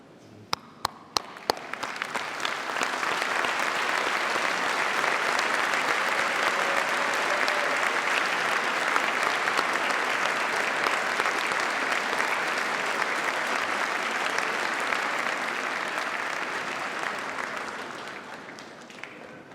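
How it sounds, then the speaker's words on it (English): Graduates at a university graduation ceremony give a standing round of sustained applause for their families and friends, starting with a few sharp claps and swelling into a dense, even roar of many hands that holds steady before tapering off. "join me in giving them a well-deserved round of applause"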